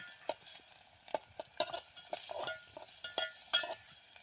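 Masala papad frying in hot oil: faint, sparse crackles and sharp pops at irregular intervals over a quiet background.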